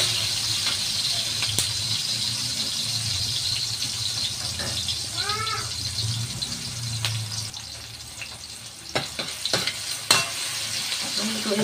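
Tomatoes sautéing for pinakbet, a continuous close sizzle of frying with repeated stirring clatters and scrapes, plus a brief high squeak midway, no talking.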